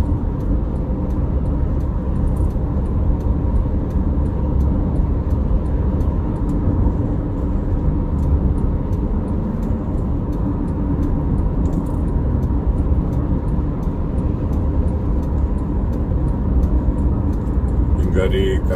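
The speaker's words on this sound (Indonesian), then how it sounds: "arus kendaraan di tol Cipularang yang mengarah ke Bandung masih cukup lancar" Steady traffic on the Cipularang toll road heading toward Bandung near KM 72–73, a continuous loud roar of passing vehicles and tyre hum with no breaks, with a voice speaking over it.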